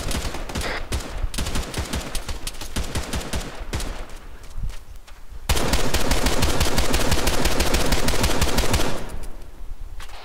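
Rapid automatic gunfire in the video game Arma 3 rattles almost without pause, bursts of shots crackling loudly and growing denser midway, with no voices.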